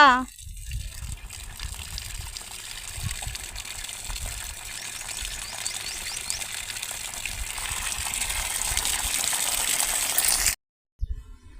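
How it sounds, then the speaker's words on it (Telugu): Water gushes steadily from the outlet of a farm motor pump, a broad continuous rush that builds slightly louder over about ten seconds, with someone speaking over it near the start before it cuts off abruptly. "నీళ్ళు చూడండి వస్తున్నాయి"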